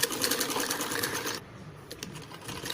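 A sewing machine runs steadily while stitching a padded princess-cut blouse, a fast close mechanical patter that stops suddenly partway through, followed by a few faint clicks and soft handling sounds.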